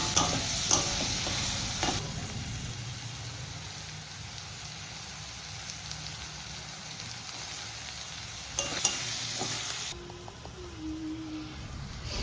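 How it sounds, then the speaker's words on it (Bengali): Chopped vegetables stir-frying in a hot wok after black mustard seed tempering, a steady sizzling crackle with stirring scrapes, loudest at the start and around the ninth second, with no talking. "কেটে রাখা সমস্ত সবজি কড়াইতে দিয়ে দিয়েছিল।"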